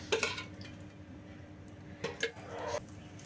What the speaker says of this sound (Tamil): இப்போ வந்து கடாய் வச்சுக்கிட்டு அதில் வந்து நம்ம ஆயில் ஊற்றிக்கலாம்